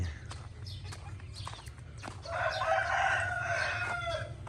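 A rooster crows once, loud and drawn out, on a chicken farm. Scattered clucks and sharp clicks come before the crow, over a low steady background hum.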